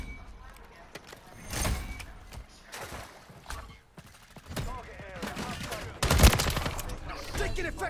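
Gunfire in a Call of Duty video game, scattered bursts and distant shots over battle noise, growing louder near the end, with voices shouting under the firing.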